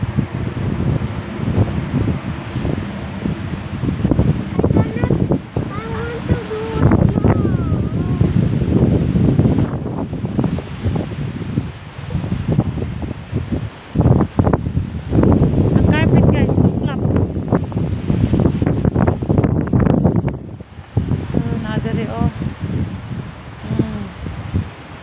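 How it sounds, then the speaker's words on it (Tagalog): Strong wind buffets the microphone continuously at Dino Park in Bahrain, with rustling and a voice talking over the roar. "Grabing hangin."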